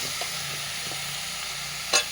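A vegetarian vegetable mixture sautéed in a pot over a wood fire, a quiet continuous frying hiss with occasional soft stirring scrapes and one sharper clink of the spoon near the end.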